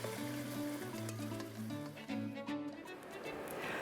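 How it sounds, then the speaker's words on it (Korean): Seaweed stir-frying in perilla oil in a pot over medium heat, a soft steady sizzle with faint stirring under a quiet musical background. "냄비에 들기름을 붓고 미역을 함께 넣어주는데 미역에 윤기가 돌 때까지 중불에서 볶아준다."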